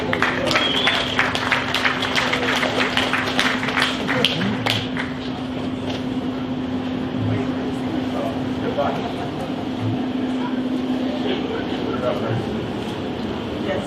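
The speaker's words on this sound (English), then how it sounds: "give a round of applause to John" An audience applauding at a live Maker Faire stage event, steady dense clapping that is loudest at first and then holds as a continuous wash under a low hum, with voices audible through it.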